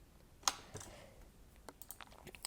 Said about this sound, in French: Moi je vais jouer clavier et on peut bouger